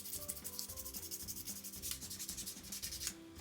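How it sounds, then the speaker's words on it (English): A plastic miniature being sanded by hand with sandpaper: a steady, close, rhythmic scratching rub, quick repeated strokes with no talk over it. "So now we can get our sandpaper out. So I bet we could sand this down"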